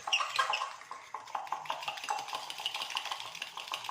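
A fork mixing cake batter in a bowl, with quick repeated clinks and scraping strokes against the bowl, close and moderately loud, continuing in an uneven rhythm throughout.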